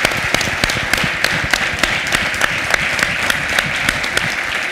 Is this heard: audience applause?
yes